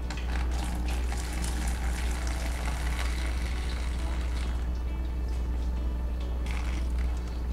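Water pours steadily off settled cornstarch and splashes into a sink for several seconds, a continuous running gush with no talking.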